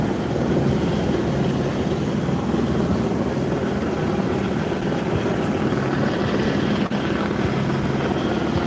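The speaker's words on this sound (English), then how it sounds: "I think the helicopter's searching for someone or something" Helicopter circling over downtown Los Angeles, a steady continuous rotor thrum and engine roar that stays loud throughout with no break, with no talking.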